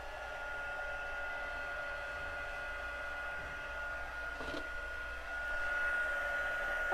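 A heat tool blows steadily for gold heat embossing on a card, a constant faint fan hum and whoosh throughout that rises slightly near the end.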